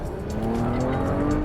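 Porsche Cayenne SUV accelerating hard, its engine note rising steadily and loud throughout with a rough rumble and faint tire noise.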